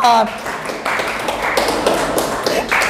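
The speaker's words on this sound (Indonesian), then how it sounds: "Tepuk tangan." Hand clapping in a classroom music session, a few short sharp claps heard close up, mixed with taps and thumps and with some voices present.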